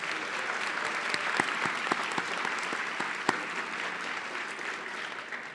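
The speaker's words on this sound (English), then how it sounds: "Can we get another loud round of applause for our faculty, staff, and students who helped put on the ceremony tonight?" At an evening student graduation celebration, a large audience gives faculty, staff and students a loud, sustained round of applause, with individual sharp claps standing out from the continuous crowd clapping.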